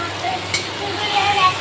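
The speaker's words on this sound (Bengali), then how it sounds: "এবারে পনিরটা দিয়ে দেবো আস্তে আস্তে। পনিরটা পুরো লাল লাল করে ভেজে নেবো নুন আর হলুদ দিয়ে।" Paneer frying in hot oil with salt and turmeric, a soft close sizzle with a brief clink partway through.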